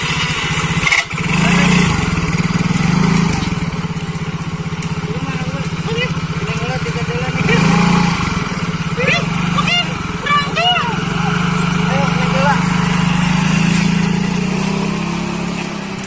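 A motorcycle engine drones steadily nearby, a constant buzzing idle and rev that carries throughout, with people talking over it.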